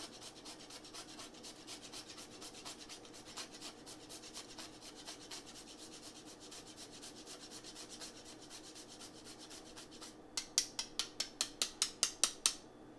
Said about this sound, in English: Fresh nutmeg is always superior, in case anyone is wondering. Just gonna grind it up.